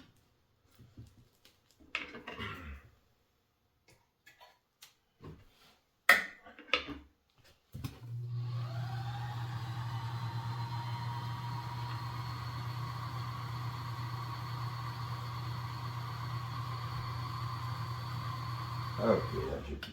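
A Kenmore 148.19370 sewing machine starts after a few clicks and handling noises, then runs with a steady, even motor hum and whirr for over ten seconds, fairly close.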